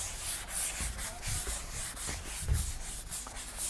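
Chalk or marker board being rubbed clean during a physics class, a steady run of broad back-and-forth scrubbing strokes close up, with no talking.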